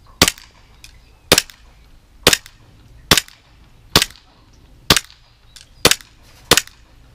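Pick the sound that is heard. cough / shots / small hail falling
shots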